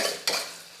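Sambal sauce being stirred and mixed in a home kitchen, a single brief scrape of a utensil against the bowl or pan after a faint rustle, close and quiet.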